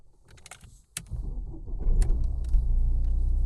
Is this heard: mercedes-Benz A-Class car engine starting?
yes